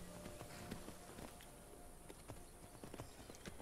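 Horse hooves in the video game Skyrim, a faint, steady clip-clop of walking steps at an even pace over a low background bed, fairly quiet and without speech.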